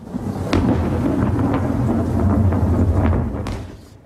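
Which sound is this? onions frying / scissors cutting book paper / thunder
thunder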